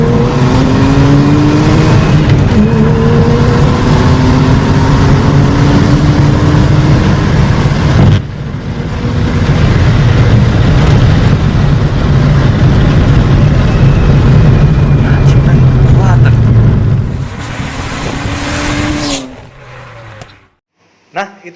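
A car fitted with air intake ducting revs and accelerates hard during an acceleration test, its engine note climbing loudly and close through several gear pulls for about twenty seconds before dropping away.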